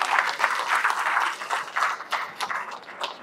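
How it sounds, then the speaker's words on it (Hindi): Applause from a room of medical students at an academy event, clapping that starts dense and then thins into scattered, uneven claps as it fades over a few seconds, with no talking. "तो एक बार अपने लिए ताली बजाइए."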